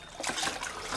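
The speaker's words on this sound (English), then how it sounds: "we're just going to clean them real quick by swishing them around" Herbs swished around in a bucket of water give a brief close sloshing and trickling burst of about a second, with no talk.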